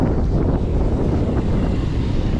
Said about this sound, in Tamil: சில்லுன்னு காற்றடிக்குது வேறு